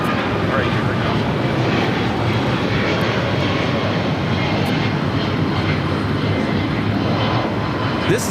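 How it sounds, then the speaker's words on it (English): American Airlines Boeing 777-200ER jet taking off at LAX, a loud sustained broadband engine roar that holds steady and close throughout, with no talk over it. "This is American Airlines Flight 60 taking off to Dallas Fort Worth on a 777-200 ER."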